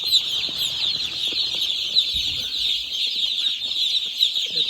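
Chickens on a poultry farm crowd together and jostle while eating feed and water, giving soft overlapping clucks and chirps against a steady high-pitched peeping chorus, with occasional wing flutters and pecking sounds close by.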